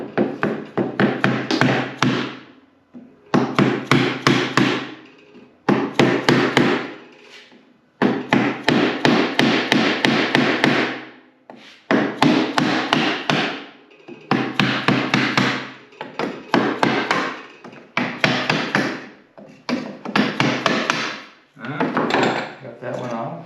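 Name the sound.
hammering a chisel to pry off roll top desk part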